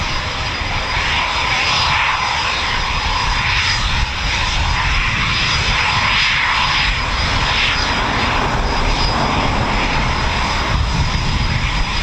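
A Eurofighter Typhoon FGR4 jet roars loudly and steadily at an RAF training station, a broad, continuous engine rumble with hiss that fills the whole stretch without a break.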